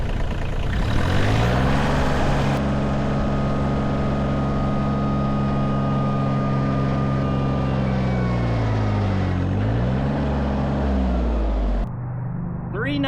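A Kioti CK/CX tractor engine holds a steady, loud drone at about 3,000 RPM, its pitch dipping briefly and recovering near the end before it cuts down; nearby and continuous.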